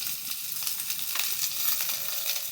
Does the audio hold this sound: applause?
no